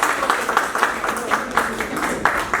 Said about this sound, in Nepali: दिपेन सरको ताली है